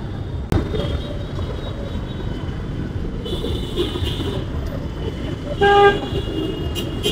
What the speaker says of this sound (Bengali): ওই দেখেন ওই দেখেন, ঘন ঘন হর্ন দিচ্ছে